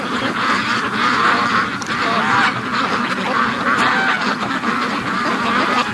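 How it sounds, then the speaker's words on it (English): A flock of free-range ducks on an icy lake quacks continuously in a loud, dense chorus of overlapping calls, close by and with no voices. "Crazy ducks."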